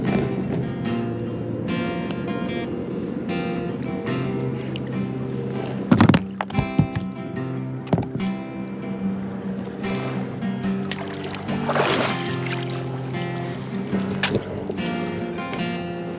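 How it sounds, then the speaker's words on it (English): Paddle strokes from a boat on open water during a 50-mile paddling leg of an endurance challenge: a steady, even wash of water noise broken by a few sharper splashes near the middle and later on, with no talking. "We're done with the paddling"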